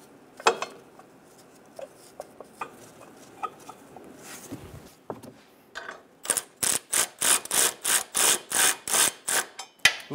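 A bolt is threaded by hand-ratchet into the transmission mount of a 2008-2017 Buick Enclave 3.6L V6, heard first as scattered metallic clinks and taps, then as a rapid run of loud, evenly spaced ratcheting clicks close by.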